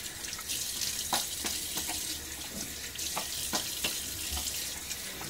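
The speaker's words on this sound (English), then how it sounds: "A little splash of water to rinse." Water from a running tap splashes during a rinse in a wet shave with a Rex Ambassador razor, a steady close stream broken by several brief splashing bursts, with no talking.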